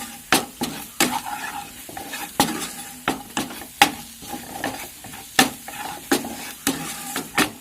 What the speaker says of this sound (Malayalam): കുരുമുളക് പൊടി ഒരു 3 ടേബിൾ സ്പൂൺ, ഇത് നല്ലപോലെ ഒന്ന് ഇളക്കുക